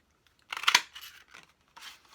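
Scissors snipping through paper to cut out a tulip shape, a few close, crisp cuts with one louder snip near the start and lighter trailing snips after.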